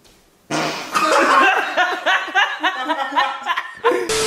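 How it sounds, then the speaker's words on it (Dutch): A fart let out on command by a person, a string of short, buzzy bursts that stutter and wobble for a few seconds, loud and close, with laughter mixed in around them. "ik kan wel op commando een scheet laten"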